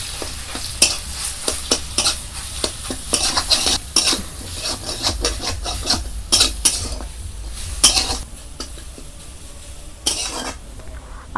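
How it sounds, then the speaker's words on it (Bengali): Chana dal with ginger and chilli frying in an iron wok as a spatula scrapes and stirs it, with loud, irregular clanks and scrapes over a continuous close sizzle. "দেখুন কতটা সুন্দর ভাজা হয়ে যাচ্ছে ডালগুলো।"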